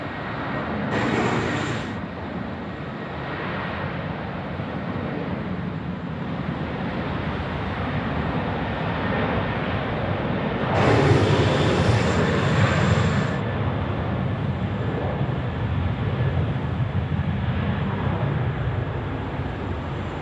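A steady, broad aircraft roar fills the scene at Sydney Airport as a plane lands on runway 16 right, with louder swelling passes and hissing rushes rising over the continuous engine noise.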